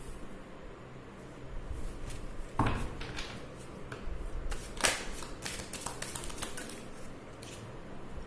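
Tarot cards are handled and shuffled at a reading table, giving soft riffles, slaps and taps in irregular bursts, with a few sharper clacks and no talking.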